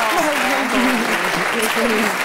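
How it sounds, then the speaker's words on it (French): Loud applause from a studio audience at a French television show, steady and dense throughout, with a voice sounding faintly over the clapping. "On applaudit très fort, mesdames, messieurs"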